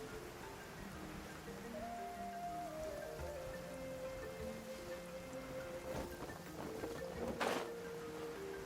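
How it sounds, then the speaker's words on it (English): Steady rain in Genshin Impact patters and hisses evenly throughout, with a faint sustained tone and a brief splash or thud near the end. "It's raining again."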